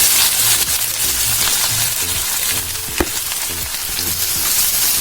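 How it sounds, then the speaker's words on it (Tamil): Finely chopped onion frying in hot oil in a pan for a quail egg gravy, a steady close sizzle with occasional stirring scrapes and one sharp tap of a spoon. "ஃபைனா சாப் பண்ண ஆனியன் சேர்த்துக்கலாம்."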